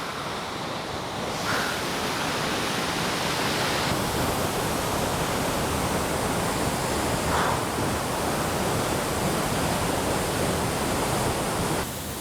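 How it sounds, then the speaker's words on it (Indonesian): Curug Sawer, a waterfall about 35 metres high in heavy flow, roars as a loud, steady, broadband rush of falling water that holds without a break throughout. "Curug Sawer dengan ketinggiannya sekitar 35 meter, pada saat MTA Traveler datang memang sedang sangat deras."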